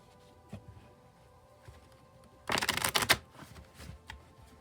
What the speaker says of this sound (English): I'll shuffle till I feel like the deck is ready